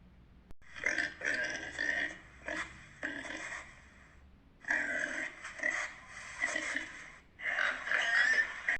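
Repeated rough, grunting oinks in several bursts with short pauses between, loud and close.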